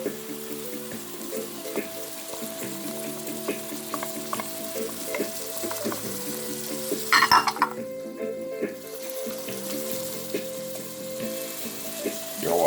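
Steady sizzling and frying in a pot of turmeric jasmine rice as green peas go in and are stirred, with occasional spoon scrapes and a brief clatter of pot and utensils near the middle, continuous and close.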